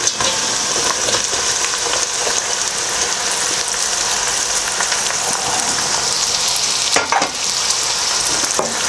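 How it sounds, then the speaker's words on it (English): Sliced large onions for an Indian restaurant base gravy fry in a hot pan with a loud, steady, close sizzle that continues throughout, with occasional scraping and stirring knocks. "Now I'm adding the large 3 onion, which I already been cut, you can see, and I'm going to throw that into the pan."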